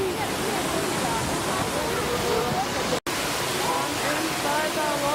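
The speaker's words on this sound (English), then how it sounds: "Inside the waterfall." Steady roar of water from inside a waterfall, a continuous broadband rush close by, with a brief dropout near the middle and faint bird or voice tones over it.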